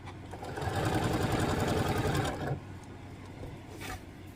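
A sewing machine stitching a pear quilt block runs at a steady, close mechanical whir for about two and a half seconds, then stops, leaving faint room noise and a soft clatter.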